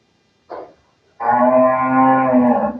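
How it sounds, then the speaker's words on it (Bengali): Heifer calf at a dairy cow market: a brief nasal grunt, a pause, then a sustained loud moo of about a second and a half, near and alone without speech. "বকনা বাচ্চা"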